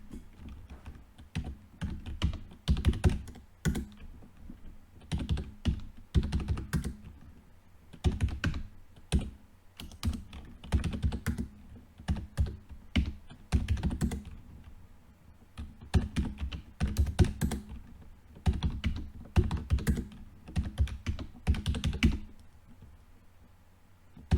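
Someone types data on a computer keyboard, giving steady bursts of close, crisp key clicks with brief pauses between runs, continuing for over twenty seconds with no talking.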